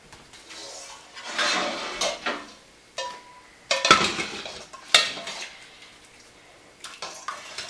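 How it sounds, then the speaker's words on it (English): A utensil stirs pickling liquid and dill seed in a glass canning jar packed with okra, giving irregular clinks and scraping swishes in short bursts separated by pauses, close and moderately loud. "I like to stir that up so I get plenty of the dill seed in there."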